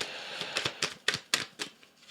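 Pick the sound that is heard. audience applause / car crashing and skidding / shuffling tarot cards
shuffling tarot cards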